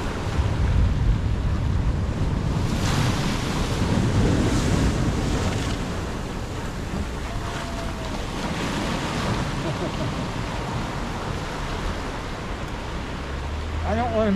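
Ocean waves wash over a seaside ramp by a tower, a continuous loud rush of surf with heavy wind buffeting the microphone throughout.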